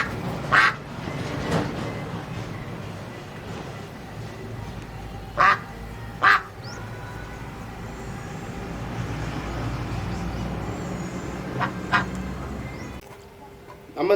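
A duck gives several loud, short quacks, scattered as single calls and a close pair, over steady outdoor background noise, with a few fainter quacks later.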